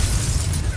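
A loud, close blasting-curse explosion from Hogwarts Legacy, a brief dense burst of roaring noise that fills the short moment on its own.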